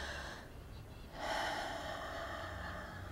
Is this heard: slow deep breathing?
yes